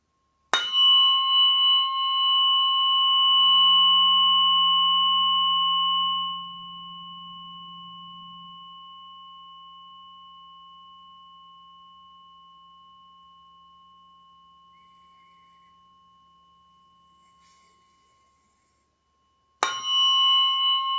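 Tuning forks for sound healing are struck with a sharp attack, then ring with pure steady tones that slowly fade to silence over many seconds before another strike. The setting is quiet and no one speaks.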